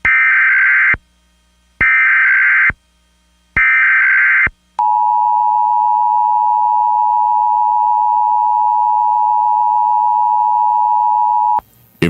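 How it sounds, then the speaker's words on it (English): Emergency alert system test tones broadcast over radio: three loud, evenly spaced buzzing bursts, then a single long, steady, pure tone lasting about seven seconds, all alone with no talk. "This is a test of the emergency alert system."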